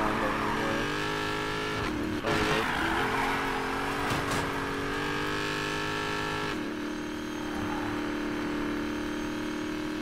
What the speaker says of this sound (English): This car actually sounds nice for a Dodge Demon.